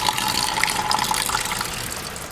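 Water runs steadily from a filtered faucet into the sink of a 2018 Ram Promaster 2500 high-roof camper van conversion, a close, continuous splashing stream lasting a couple of seconds.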